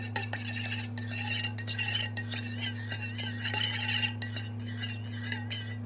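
A spoon stirs muffin batter of black beans, corn and flax mix in a large, oversized bowl, giving steady scraping and clinking strokes over a constant low electrical hum, close and fairly loud with no talking.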